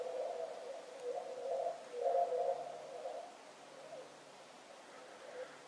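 Ice on a frozen lake gives off eerie hollow, hooting tones that rise and fall in several faint swells over quiet background.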